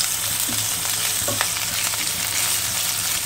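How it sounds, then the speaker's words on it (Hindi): Ginger garlic paste, green chilies and asafoetida fry in a spoonful of hot oil, sizzling steadily with occasional stirring scrapes, close and loud. "अब इसमें अदरक और लहसुन का पेस्ट डालेंगे, हरी मिर्च डालेंगे, हींग डालेंगे, इसे भून लेंगे।"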